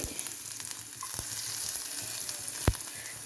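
Mustard seeds and a few cumin seeds tempering in hot oil in a pan, a soft steady sizzle close by with a couple of sharp isolated pops or clicks, fairly quiet and without talk.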